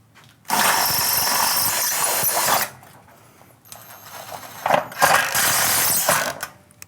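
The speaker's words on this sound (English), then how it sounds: "I will drill the block through the pre-punched holes of the mainframe" A loud power drill whirs into a concrete block through a door frame in two long bursts separated by a short pause, with no talking.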